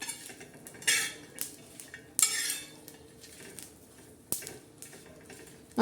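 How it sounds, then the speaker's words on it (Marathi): Green chillies roast in a pan, a few loud metal spatula scrapes and knocks breaking a low, steady background crackle, with no talking. "भाजून घेऊया सर्व मिरच्या."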